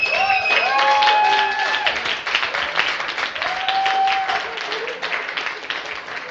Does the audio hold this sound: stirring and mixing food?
no